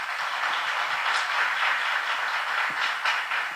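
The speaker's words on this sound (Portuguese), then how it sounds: "dando uma salva de palmas para Jesus." A church congregation claps in steady, dense applause at a service, a continuous bright patter of many hands held at an even loudness for several seconds with no voices over it.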